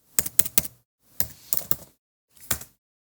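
Keys clack on a computer keyboard in three short bursts, a quick cluster of taps, a second run of presses, then a brief final pair, close and crisp with silence between.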